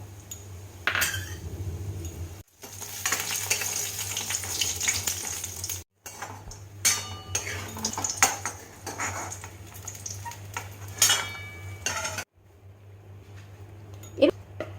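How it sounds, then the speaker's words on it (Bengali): Lentil dumplings (bori) fry in mustard oil with a steady sizzle, broken by short pauses, and occasional utensil clinks and stirring sounds come through close by. "বড়িগুলো আগে ভেজে তুলে নেব"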